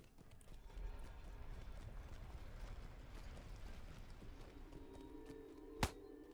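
Horse hooves in the online game Lord of the Rings Online, a steady muffled clip-clop of galloping under low game ambience, ending in a sharp sudden impact as the rider is knocked off the horse.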